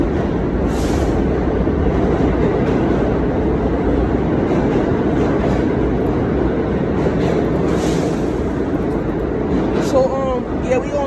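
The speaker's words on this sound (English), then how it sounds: "About to wait for the Coney Island by F train" Subway train noise on the New York F line bound for Coney Island, heard at Jay Street–MetroTech station: a steady, loud rumble and rattle of rail cars fills the whole span, with faint squeals near the end.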